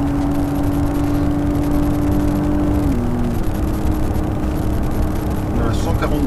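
A small four-cylinder car engine runs at full throttle with a steady droning hum whose pitch holds and then drops midway, probably at a gear change. Wind and road noise surround it, and a voice talks over it.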